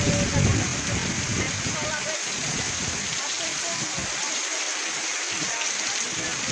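Heavy rain pours down on a flooded street in Chattogram, making a dense, constant hiss and splatter, with a voice talking over it.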